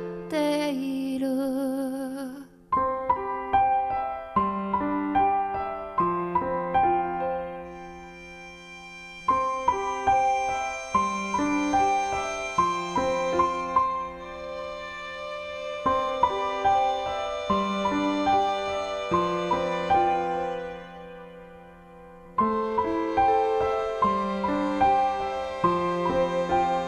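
A song plays on a radio broadcast, a gentle tune of soft plucked and keyed notes in a flowing, bell-like melody with a brief noisy intro, no voices over it.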